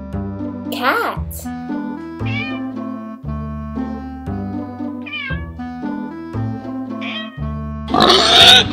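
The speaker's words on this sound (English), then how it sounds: "Pig." An animated cartoon pig gives a short, rough grunting burst near the end, after meow-like calls, all over a steady, bouncy children's music loop.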